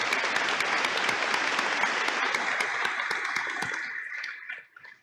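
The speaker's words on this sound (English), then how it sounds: "now that's worth clapping for." Graduation audience at a 2019 Caldwell County commencement claps steadily and densely, the applause holding strong before tapering off and fading out near the end.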